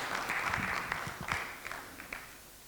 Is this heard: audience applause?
yes